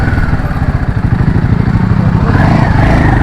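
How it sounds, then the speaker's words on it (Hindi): Royal Enfield Himalayan 450 motorcycle ridden slowly across a bridge, its engine a loud, steady thumping drone close to the microphone throughout, with no pauses. "ये तो हिमालयन है भाई, ये तो यहाँ से भी उतर जाएगी आराम से"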